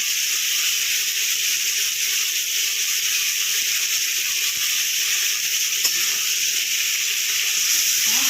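Ginger garlic paste fries in a pan with a steady, even sizzle and hiss that continues unbroken from start to finish, close and fairly loud, with no voices.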